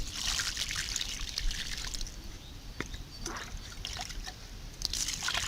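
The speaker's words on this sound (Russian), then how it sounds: "И этой же водой проливаю уже посаженное растение." Water from a bucket mixed with rooting solution, about ten liters, poured onto a freshly planted supermarket rose in garden soil; a steady close trickle and splash runs throughout with small sloshing surges.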